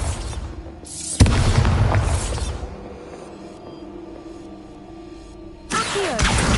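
Bombarda spell blasts in the game Hogwarts Legacy, two loud booming explosions with a rumbling tail, the first striking sharply, the second arriving a few seconds later.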